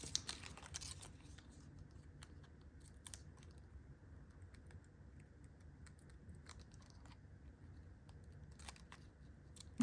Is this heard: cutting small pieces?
yes